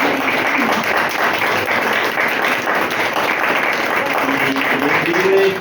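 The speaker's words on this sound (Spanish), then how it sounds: "con un fuerte aplauso" Strong audience applause at a parish talk, a loud, sustained, even roar of many hands clapping with faint voices mixed in.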